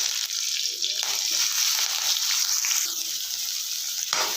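Chopped onion drops into hot oil already crackling with mustard seeds and curry leaves for a capsicum palya, giving a steady, loud, close sizzle with scraping stirring sounds throughout.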